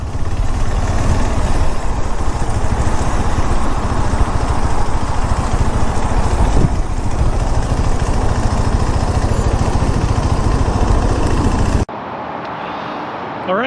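A KTM 390 motorcycle engine running close by, a loud, continuous rumbling drone that cuts off abruptly near the end, leaving quieter ambient noise.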